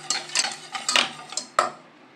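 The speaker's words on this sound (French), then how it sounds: "Et je vais mélanger sans m'arrêter." A utensil scrapes and clinks against a pan while a milk sauce is stirred continuously on the stove, giving a series of close metallic strokes with a couple of sharper knocks.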